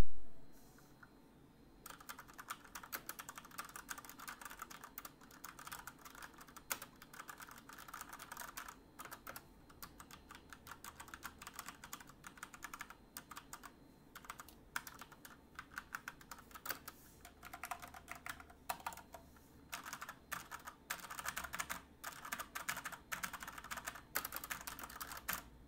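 Someone types on an Asus ROG Strix Flare mechanical keyboard with Cherry MX Red switches, producing a close, continuous patter of soft, rapid keystrokes that goes on without a break.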